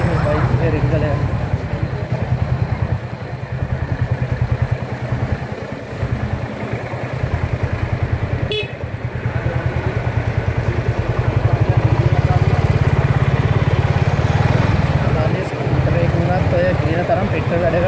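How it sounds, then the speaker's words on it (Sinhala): A Suzuki Volty 250 (TU250) motorcycle rides through traffic, its engine a steady low rumble with wind and road noise throughout while someone talks over it. "ඒකේ ට්‍රැෆික් එක හරි ලේසි මේ බයික් එකේ රිංගල යන."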